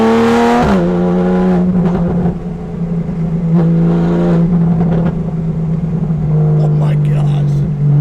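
A newly tuned, straight-piped Porsche 911 with a 3.8-litre engine drones loud and close, its pitch shifting as the revs rise and settle, with a brief spoken exclamation.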